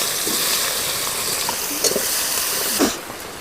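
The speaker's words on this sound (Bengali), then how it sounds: "এবার আমি পেঁয়াজ কুচিটা দিয়ে দেব।" Chopped onion hitting hot oil with bay leaf, dried red chilli and whole cumin for a sea fish curry, a loud continuous sizzle close up, broken by a couple of short stirring scrapes.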